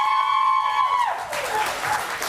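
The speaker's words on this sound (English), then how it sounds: "It's a very enthusiastic crowd today" A crowd at a student union question-time election night bursts into enthusiastic clapping as a sustained tone fades, the applause filling the room steadily until the end.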